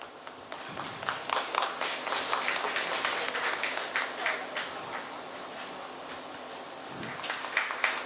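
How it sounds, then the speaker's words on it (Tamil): Audience applause at a Rotary Club installation ceremony, a sustained round of clapping from a gathered crowd that swells early and then tapers slightly, heard alone without speech. "உற்சாகமாக கைதட்டு வழங்குமாறு அன்போடு கேட்டுக்கொள்கிறோம்."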